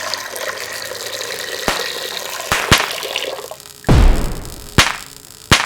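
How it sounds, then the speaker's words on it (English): Wormwood infusion poured into an empty cauldron, a steady close liquid splashing and trickling with a few sharp clinks and a louder gush near the end, no voices. "just pour the infusion of wormwood back into the empty cauldron"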